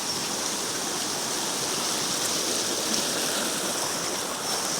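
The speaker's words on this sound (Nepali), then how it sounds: "खोला हो।" A river stream flows outdoors near a cave, producing a continuous, even rush of water that holds steady and fairly soft throughout, with no voices.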